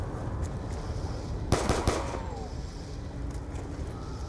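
Pistol gunfire in Call of Duty Black Ops 2 zombies on the Nuketown map, a few quick shots in a short cluster over a steady background game hum, fairly faint.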